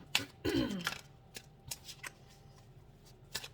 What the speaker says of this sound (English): I'm going to pull a card here